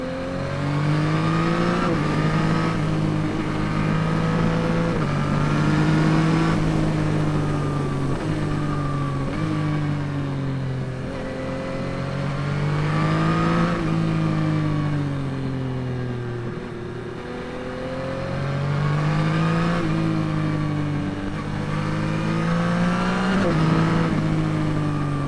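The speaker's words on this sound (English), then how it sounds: "I love that sound when you're going up through the gears on the quick shifter" A 2021 Yamaha MT-09 triple-cylinder motorcycle accelerates hard through the gears with a quick shifter, a loud close engine bark rising in pitch over and over, with brief clean dips at each upshift.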